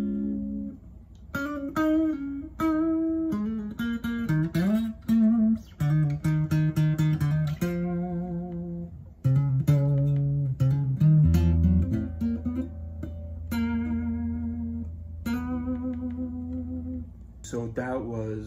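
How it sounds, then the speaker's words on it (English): Electric guitar played with a clean tone through an amp, a Boss DS-1 distortion pedal switched off, picking single notes and bends in a slow, sparse phrase with ringing sustain and pauses between notes. "so I have the clean tone right now"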